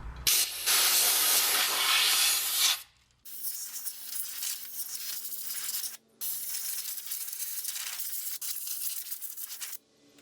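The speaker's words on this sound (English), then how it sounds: "I'm going to blast this area with the air hose." Compressed air from an air hose blasts dirt off a John Deere 110 tractor in loud hissing bursts, one long blast followed by two shorter ones with brief silent gaps.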